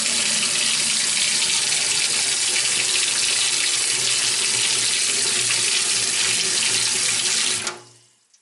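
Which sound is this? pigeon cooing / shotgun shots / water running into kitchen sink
water running into kitchen sink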